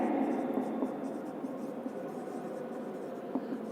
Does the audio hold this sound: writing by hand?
yes